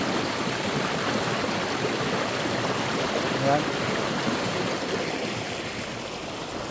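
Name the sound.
flowing river water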